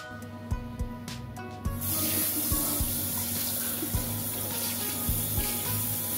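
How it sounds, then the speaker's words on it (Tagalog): Cucumber being washed under a running kitchen tap: a few faint knocks and handling sounds, then the faucet opens into a steady, close hiss of flowing water with occasional soft bumps. "Hugasan po natin itong ating cucumber at babalatan natin."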